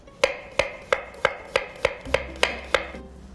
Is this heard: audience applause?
no